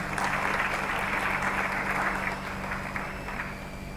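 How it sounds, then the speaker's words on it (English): An audience at a university international week opening ceremony applauds in a steady, even wash of clapping that stays moderate in level and thins slightly toward the end. "A round of applause, please, for him."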